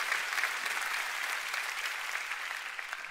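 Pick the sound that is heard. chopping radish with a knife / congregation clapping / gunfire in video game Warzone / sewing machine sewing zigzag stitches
congregation clapping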